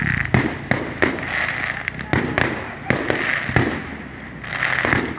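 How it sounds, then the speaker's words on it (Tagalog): Fireworks go off in Jolo, Sulu as a rapid series of sharp booming bursts, roughly a dozen close, loud cracks at uneven intervals over a constant crackle and crowd noise, with some talk in the background. "Nagpo-fireworks."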